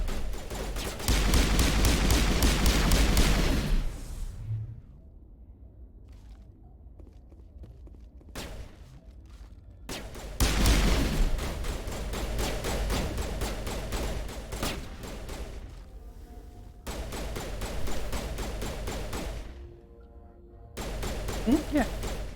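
Sniper gunfire in the video game Mass Effect (ME1, Legendary Edition) comes as loud, dense bursts of shots, a long barrage at the start and shorter volleys later, separated by quieter stretches of game ambience.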